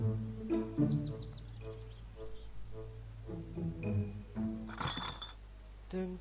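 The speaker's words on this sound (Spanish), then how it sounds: "Las botellas no se rompen, así que las podéis tirar tranquilamente." Glass bottles are tossed into a van one after another, giving sharp clinks and knocks of glass against glass and metal, with faint voices in the background.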